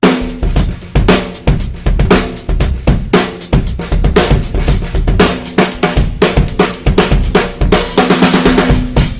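A snare drum with deliberately loosened snares is played fast and steadily in a busy pattern, the loose snares giving a buzzy, rattling, longer, dirtier sustain to every hit.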